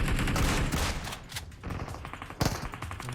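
Bursts of gunfire in the PUBG Mobile battle royale game, several rapid shots crackling close then trailing off, with a sharper volley near the end.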